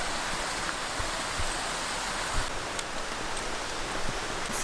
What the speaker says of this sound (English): look, free waterfalls at the lodge